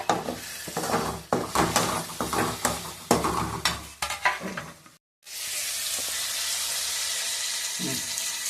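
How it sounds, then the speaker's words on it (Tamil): Cut tomatoes frying in a pan for a Chennai-style seela dry fish curry, a loud sizzle broken by repeated scraping stirs and clinks of the spoon against the pan, then after a short pause a steady, even hiss on its own. "கட் பண்ண தக்காளியை நம்ம ஆட் பண்ணி நம்ம அதை நல்லா கிளறி விட்டுக்கலாம்"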